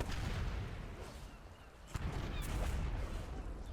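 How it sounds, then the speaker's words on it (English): Rapid automatic cannon fire in World of Warcraft, a continuous dense barrage of booming shots with a few sharper blasts standing out, steady and loud throughout. "Commence rapid fire automatic cannon in mode."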